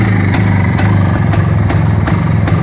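A Planeta 4 motorcycle engine runs steadily on a cold day in Fergana, loud and close with a constant throbbing chug and regular faint pulses, no voices over it.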